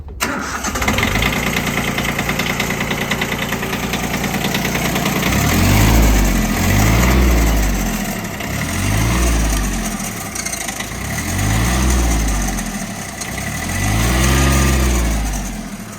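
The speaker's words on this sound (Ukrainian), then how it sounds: "заведіть, щоб е, почули двигун" A Yanmar F165 tractor's diesel engine cranks and catches, then settles into a loud, steady idle with a low rhythmic throb that swells and fades in regular pulses.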